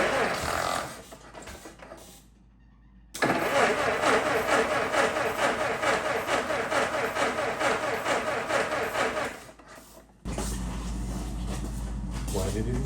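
A 1914 Ford Model T Speedster engine catches and runs with a loud, rough, steady chugging, then cuts out abruptly before a harsh noise follows.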